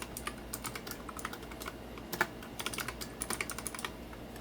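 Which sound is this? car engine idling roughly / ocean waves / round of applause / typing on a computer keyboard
typing on a computer keyboard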